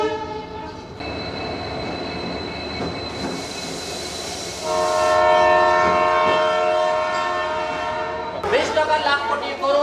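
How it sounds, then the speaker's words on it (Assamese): A train approaches in an Assamese short film, with a rumbling rail roar and long sustained horn blasts that swell louder midway, then squealing wheels near the end. "এই ট্ৰেইন আহি আছে নহয়"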